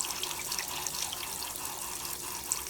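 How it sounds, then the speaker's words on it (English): Tap water running to fill beakers for black and white film developing, a steady hissing stream with faint splashes and drips close by, continuous throughout. "It's time to fill up both those beakers."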